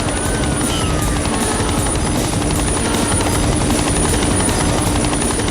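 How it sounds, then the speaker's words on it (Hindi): A helicopter's rotor chops steadily and loudly throughout, a constant thudding drone with a high whine on top. "हेलीकॉप्टर की आवाज से कहीं वो तुम्हारी बहन को नुकसान न पहुंचाए।"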